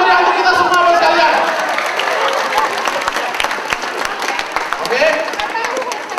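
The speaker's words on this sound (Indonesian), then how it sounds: "Kita tepuk tangan meriah untuk kita semua, Bapak sekalian." Audience applause, loud, sustained clapping from a crowd that fills the whole stretch, with a voice briefly heard over it near the end.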